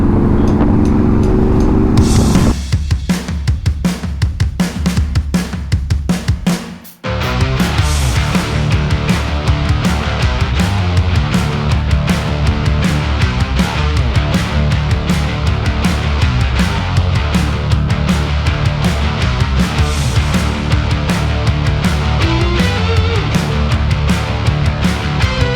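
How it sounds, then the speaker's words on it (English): A loud, revving motorcycle engine runs almost continuously, with rapid crackling exhaust pops and bursts riding over the drone and one brief cutoff early on. "you can hear your exhaust popping louder from off all that fuel"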